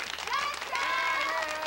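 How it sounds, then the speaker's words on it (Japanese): A studio audience on the 1978 Japanese TV show Ginza Now! applauds the idol group Candies, a steady wash of clapping with crowd noise and a few voices rising over it. "キャンディーズに拍手。"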